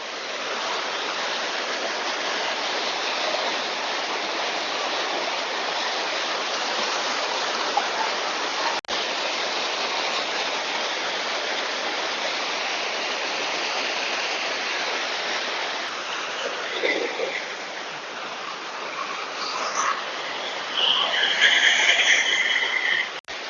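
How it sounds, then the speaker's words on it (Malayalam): A hidden waterfall near Varkala roars in a dense, unbroken rush of falling water, loud and constant throughout, with faint chirps rising near the end. "അടിപൊളി വെള്ളച്ചാട്ടമാണ്"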